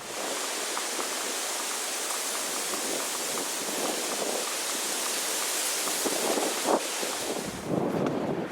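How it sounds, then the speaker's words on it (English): Steady wind rushing through trees along a South Devon coastal path, a broad continuous roar with gusts swelling louder near the end, heard alone without voices. "a bit of shelter and the wind through the trees"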